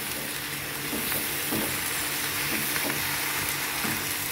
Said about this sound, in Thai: สุดยอดของความอร่อยผัดซีอิ๊วผัดเองเติมเอง